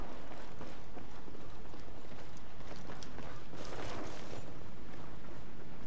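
Rapid footsteps in Battlefield 4 on Xbox One thud and clatter over a dense, noisy game soundscape, fairly close and steady, with no voices.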